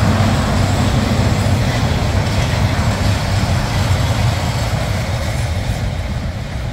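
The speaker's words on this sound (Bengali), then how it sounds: "ট্রেন যাচ্ছে।" A train passes nearby in a village setting, giving a continuous loud rumble and roar with rattling that stays steady throughout, with no voices heard.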